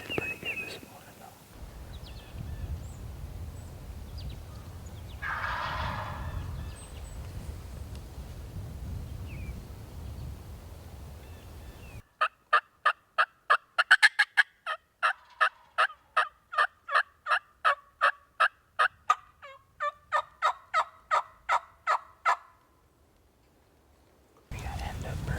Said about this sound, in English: We got some birds to the north, gobbling down on the bottom a few hundred yards too.